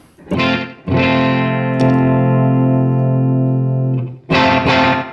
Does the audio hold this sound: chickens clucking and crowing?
no